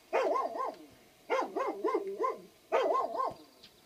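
A dog barks in three short bursts of quick, yappy barks separated by brief pauses, fairly close and loud with no one talking.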